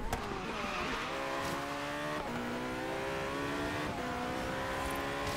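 A McLaren P1 races in the video game Forza Horizon 3, its engine revving hard and loud through repeated upshifts, each rising whine cut by a quick gear change, with faint tire noise beneath and no talking.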